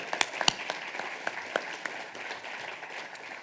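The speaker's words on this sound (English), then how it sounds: "Big round of applause, Mom" An audience claps at an award ceremony for a speaker's mother, loose and fairly soft, with a few sharp nearby claps standing out early before the sound settles into an even patter.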